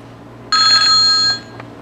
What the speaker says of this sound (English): now we have more of a typical ringtone